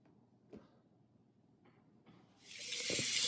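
A kitchen sink tap starts running for a six-week-old Aussiedoodle puppy's bath. After a few quiet knocks and handling sounds, the water bursts on and rushes loudly and steadily to the end.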